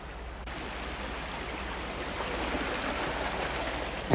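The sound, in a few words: waterfall in Rattlesnake Canyon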